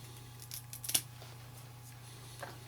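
One quick, faint scissor snip trimming shrimp fly-tying material, a soft, close click over a low steady hum in an otherwise quiet room.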